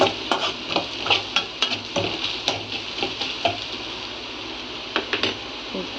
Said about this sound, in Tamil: பாருங்கள் ஃப்ரெண்ட்ஸ், வெங்காயம் இந்த மாதிரி நல்லா ப்ரௌனிஷாக வதங்கி வந்துருக்கு.